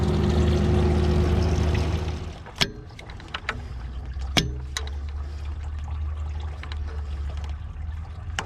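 Coolant drains from a Takeuchi TL10 skid steer into an old mortar pan, starting as a heavy gushing pour that thins into a steady trickling flow, broken by a few sharp metallic clanks.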